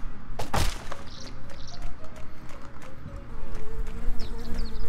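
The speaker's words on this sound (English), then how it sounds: "We got a bee." A bee enemy in the video game Secrets of Grindea gives off a steady insect buzz beneath game music and effects, with a sharp crack early on.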